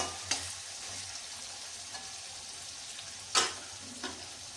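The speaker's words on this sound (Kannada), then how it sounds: "ನೋಡಿ, ಟೊಮೊಟೊ ಹೊಂದ್ಕೊಂಡು ಎಣ್ಣೆ ಬಿಟ್ಕೊಳ್ತಾ ಇದೆ." Tomatoes frying in oil for potato poha, a soft continuous sizzle broken by several spoon scrapes and clinks against the pan, one louder clatter near the end.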